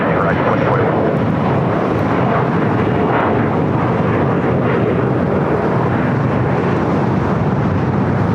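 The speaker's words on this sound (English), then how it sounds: "2021 taking off to Bozeman on an E175" Alaska Horizon Embraer E175 jet on its takeoff roll at LAX, a loud, steady broadband engine roar lasting the whole stretch, with a faint voice at times underneath.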